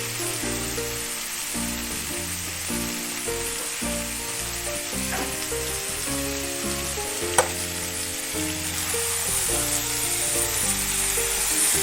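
Rinse water from a spice bowl poured into hot masala for a raw jackfruit chicken curry makes loud, continuous sizzling and frying that stays strong throughout, with a brief clink of the bowl partway through.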